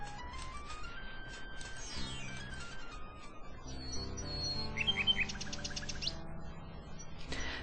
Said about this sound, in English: Alexander winds the mechanical nightingale and places it on the ground.